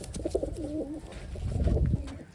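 Low, soft cooing from a red bar Taiwan racing pigeon close by, a few throaty rolling coos over faint background noise.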